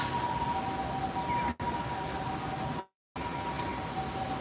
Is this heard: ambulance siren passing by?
yes